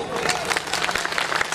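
Audience clapping and cheering at a Punjabi-Saraiki poetry mehfil mushaira, a dense, steady burst of applause mixed with crowd voices throughout.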